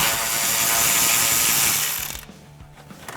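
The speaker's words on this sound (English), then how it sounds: "Grab your 7mm socket and go ahead and remove your cover" A ratchet on a 7mm socket loosens the fog light cover on a 2019-2021 Chevrolet Silverado 1500, giving a loud, dense buzzing ratchet run that stops abruptly and is followed by a few light clicks.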